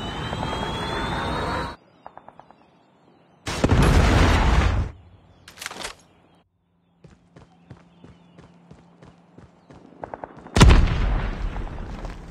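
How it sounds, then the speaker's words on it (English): A Predator missile strike in Call of Duty Mobile lands with several loud, broad blasts separated by gaps, followed by scattered faint pops and a final heavy boom near the end. "Predator missile inbound."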